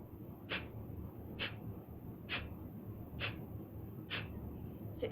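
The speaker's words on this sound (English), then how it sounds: "So it's just these real forceful exhales followed by passive inhales." Kapalabhati breathing: six sharp, forceful exhales puff out at a steady pace about one second apart, each brief and close, with the passive inhales between them nearly silent; no talking.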